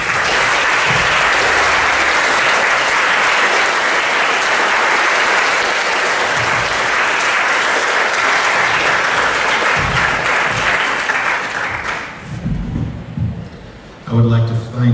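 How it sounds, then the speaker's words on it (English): A school audience at a 2014 National Honor Society induction gives newly inducted students loud, sustained applause that fills the room for about twelve seconds before fading into a few scattered claps and low murmurs. "Please face the audience and receive our collective applause."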